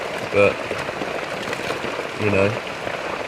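Heavy jungle rain in Malaysia forms a dense steady hiss throughout, with a voice speaking briefly twice over it.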